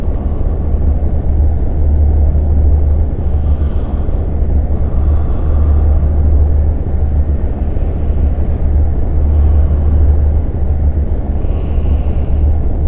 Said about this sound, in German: Ich hoffe, ihr hört die Autos da draußen nicht so bei mir.